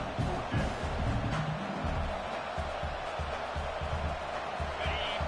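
Steady crowd roar filling a college football stadium during a Texas vs Texas A&M game, a loud, continuous wash of noise with a commentator talking over it.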